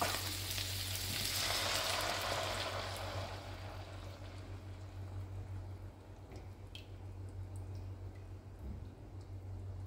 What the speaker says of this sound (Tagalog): Pagkatapos po, pakukulaan ko po yung coconut milk.